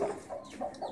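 A hen clucks softly in a few low, repeated murmurs, faint and close with no talk over it.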